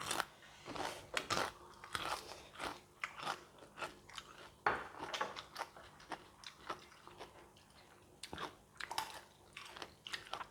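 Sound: biting and chewing crispy fried chicken skin

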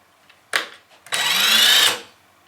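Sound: Ryobi R18IW3-0 cordless impact wrench running in first gear, unloaded

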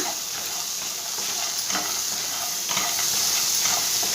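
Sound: stirring a phool makhana chaat mixture with tomato

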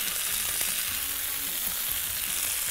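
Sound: red onion caramelizing in a pan

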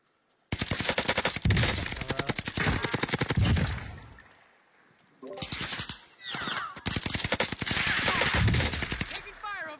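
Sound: gunfire in a video game

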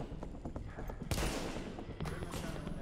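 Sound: gunshots in the video game The Division

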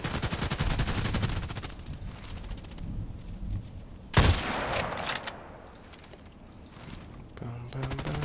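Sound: gunfire from the video game Contract Wars

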